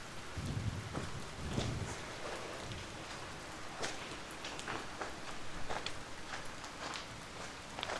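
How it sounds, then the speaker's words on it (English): Steady rain falls on an open mountain walk below the Creag Meagaidh headwall in the Scottish Highlands, a continuous soft hiss with scattered nearby drop taps and a few low rumbles, with no talk. "Yeah, so this rain's come in proper."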